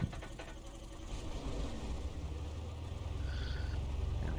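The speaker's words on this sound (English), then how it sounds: "Alright, so the plan is now to crank this engine." An aircraft engine cranks and starts in a flight simulator during a flight from Sonoma County toward Lake Tahoe, heard as a faint, steady low rumble that builds slightly and holds, with no talking.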